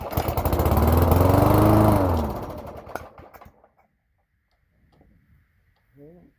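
A Toro lawn mower engine cranks from cold and catches, revving loudly for about two seconds before sputtering and dying away. A faint voice follows in the quiet that remains.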